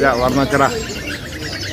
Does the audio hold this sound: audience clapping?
no